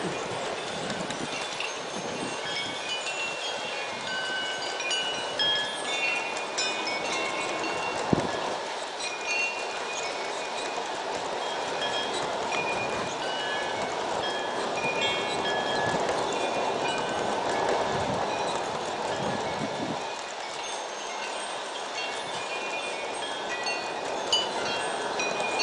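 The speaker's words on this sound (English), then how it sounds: "Again, this is a 40-car train, a refrigerator block train." An Aristo-Craft model garden train pulling a 40-car refrigerator block train with a Mallet helper rolls along the track in a steady rumbling, clacking run with occasional louder bumps, no voices.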